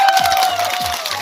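Round of applause and crowd noise for the bride and groom at a wedding in Lao Cai, dense clapping mixed with voices and a low musical drone.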